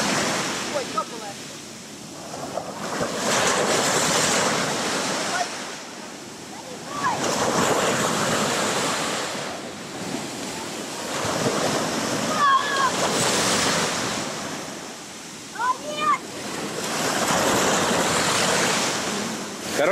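Sea waves break on a beach in Alanya in steady, rhythmic surges, each swell building into a broad rushing wash and then receding, with wind noise in between.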